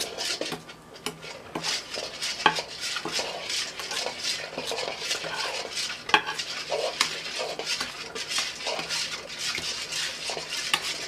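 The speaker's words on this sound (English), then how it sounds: "I need to beat up my egg and give it" An egg is beaten in a bowl with quick, rhythmic clicking strokes of a utensil against the sides, close and continuous with a few sharper knocks.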